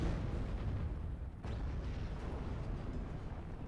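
Artillery units firing in the WARNO strategy video game, a dense, continuous low rumble of distant heavy guns with one brief dip before the barrage rolls on.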